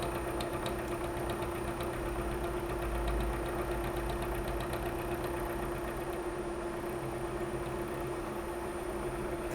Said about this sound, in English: now I'm going to move the long axis of the table and bring the cutter forward in 5 thousandths of an inch increments